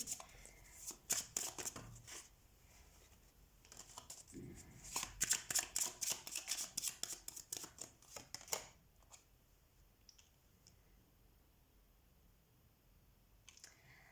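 Tarot cards being shuffled by hand, with a run of crisp riffling and flicking bursts in the first half, then quieter handling and faint background sounds.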